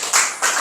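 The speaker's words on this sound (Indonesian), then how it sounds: "tepuk tangan untuk kelompok" Classroom students clapping for a group of classmates who finished a matrix exercise, two short bursts of claps close by.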